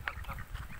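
A single short, faint honk comes from a family of geese and their goslings wandering about a farmyard, heard alone and from a little distance.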